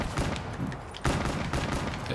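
Rapid gunfire in a Call of Duty Black Ops 3 Zombies match, steady dense bursts with a short break midway before the shooting resumes loudly.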